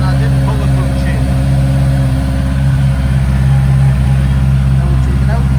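A Honda CBR650R inline-four motorcycle idles steadily up close, a deep even rumble, with a faint clunk as it is knocked into gear without the clutch while someone talks over it.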